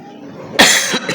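A preacher with a cold gives one harsh, close cough during an Islamic sermon, followed by a shorter second cough a moment later.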